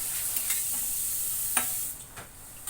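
Cheese paratha sizzles in a film of oil on a hot pan, a steady close hiss broken by a few soft clicks and scrapes as it is flipped.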